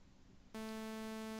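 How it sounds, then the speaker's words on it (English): A synthetic sawtooth wave tone snaps on abruptly after a short stretch of quiet hiss and holds steady, a loud buzzy sustained pitch rich in harmonics. "And this is a sawtooth wave."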